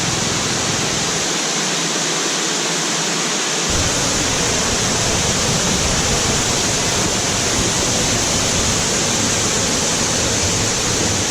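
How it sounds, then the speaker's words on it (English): Datanla Waterfall in Dalat roars as a dense, steady wash of rushing water, loud and continuous throughout with no voices. "So I'm at Datanla Waterfall"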